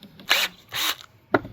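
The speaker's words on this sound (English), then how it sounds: "continue to drill holes all the way around" A drill boring small holes through the top layer of a homemade egg incubator, three short close bursts, the first two longer whirs and the last a quick buzz, separated by brief pauses.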